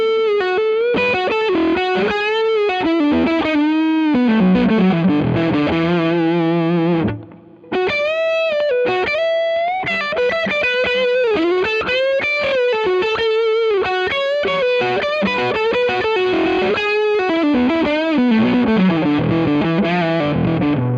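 Electric guitar played through an Amplified Nation Wonderland Overdrive V2 amp, a Dumble-style overdrive, on the neck pickup: loud, sustained distorted melodic lines and chords with a brief gap midway, no talk.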